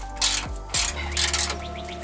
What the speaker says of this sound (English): You will have to use another wrench here on the top just to make sure that you can tighten these down